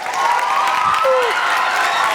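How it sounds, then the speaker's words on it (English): Crowd applause and cheering for a 6th grade band at a school winter concert, a dense steady wash of clapping with a whistle-like tone riding over it, sustained for the whole stretch. "Give the 6th grade band another round of applause"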